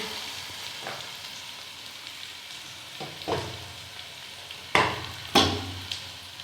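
Onions fry with spices in a pan for a mixed potato, carrot and pea curry, giving a continuous sizzle with occasional sharp scrapes and clatters of stirring.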